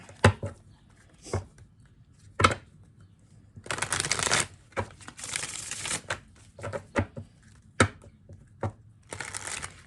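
Reading cards for a pick-a-card reading are shuffled and drawn up close, with papery riffles, longer rustling bursts and quick slaps separated by short pauses.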